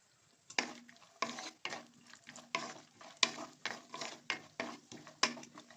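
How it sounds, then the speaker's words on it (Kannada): Cashews fried in a pan over a low flame for sugar-free dry fruit laddu, heard as a rhythmic series of close spoon scrapes and clinks against the pan, roughly one every half second, over a faint sizzle. "ನೋಡಿ, ಈ ಥರ ಗೋಡಂಬಿನ ನೀಟಾಗಿ ಫ್ರೈ ಮಾಡ್ಕೋಬೇಕು. ಸ್ವಲ್ಪ ಲೋ ಫ್ಲೇಮಲ್ಲೇ ಇರಲಿ."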